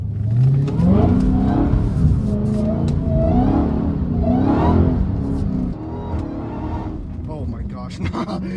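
A Dodge Hellcat Redeye driving on wet roads in the rain growls and surges as its engine revs, deep rising roars swelling twice under someone talking inside the car.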